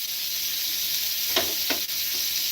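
Skewered fish and shrimp, splashed with ginger wine, sizzle over an open fire in a constant close hiss, broken by a couple of sharper crackles and pops.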